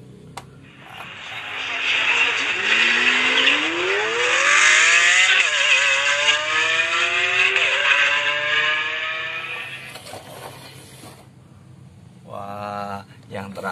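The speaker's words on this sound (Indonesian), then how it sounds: "Ini ada mobil balap" A toy race car plays a loud, sustained engine-revving sound that sweeps up and down in pitch for about ten seconds, then fades to a quieter stretch with a short burst at the end.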